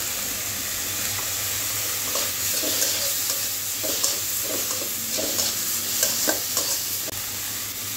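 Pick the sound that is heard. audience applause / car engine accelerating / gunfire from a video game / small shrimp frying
small shrimp frying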